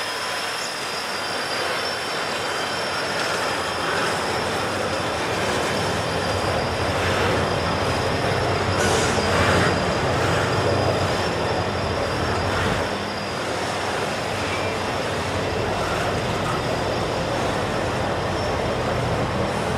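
A long freight train pulled by two diesel locomotives, an SD40-2 and an SD60, rumbles steadily past with a broad, continuous roar and faint wheel squeal, no voices, holding a constant loudness throughout.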